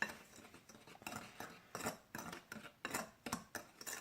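Flour and granulated sugar stirred together in a bowl for a coffee cake crumb topping: a quiet, rhythmic series of light scraping and clinking strokes of a utensil against the bowl, about two per second, close up and without talk.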